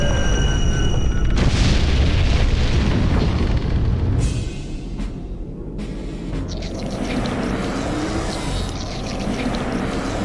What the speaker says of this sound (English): Let's try a sonic attack.